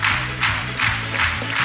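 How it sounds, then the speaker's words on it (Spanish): A TV studio audience cheers and claps in rhythmic swells, loud and close, rising in regular waves over under two seconds. "Un fuerte aplauso para ella."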